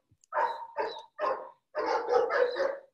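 A dog barks from a nearby kennel, three sharp barks followed by a faster cluster of four, moderately close and clear against a quiet background.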